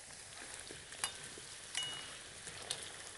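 Potatoes sauté gently in oil, a faint, even sizzle with three soft ticks or pops spaced about a second apart, heard close and without voices.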